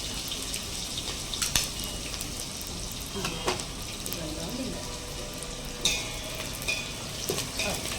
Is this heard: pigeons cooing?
no